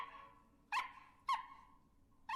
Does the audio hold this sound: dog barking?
yes